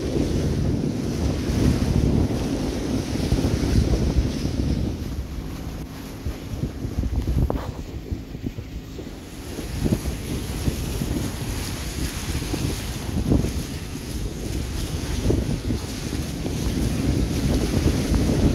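A sailboat runs in a strong northwest wind, with steady loud wind rush, surf and water against the hull throughout and no voices.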